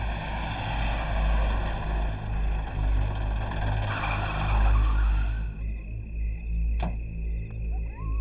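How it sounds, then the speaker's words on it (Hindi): A car's engine stalls. A steady droning hum with a rough overtone fades out partway through, leaving a low residual hum and a brief sharp click near the end. "क्या हो गया? गाड़ी बंद पड़ गई?"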